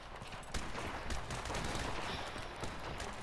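Rapid, sustained automatic gunfire in Call of Duty: Modern Warfare Remastered: dense, continuous bursts of shots blending into a loud, unbroken roar with no pauses.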